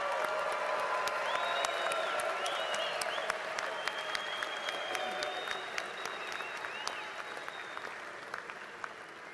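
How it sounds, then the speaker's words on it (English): Audience at a Virginia Tech graduate commencement applauds the graduates, dense sustained clapping from a large crowd filling a big hall, gradually easing off. "One more round of applause for our graduates."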